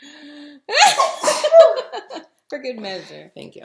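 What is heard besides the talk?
sneeze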